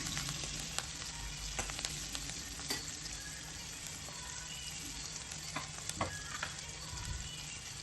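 Onion, mustard seeds and curry leaves fry in oil, giving a steady close sizzle with scattered crackles and pops and the occasional scrape of stirring.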